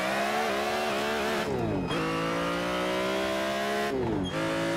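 A BMW CSL race car driven in Assetto Corsa, its engine loud and sustained as it revs through the gears, with two brief dips at the shifts before pulling hard again.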